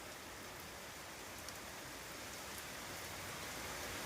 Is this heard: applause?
no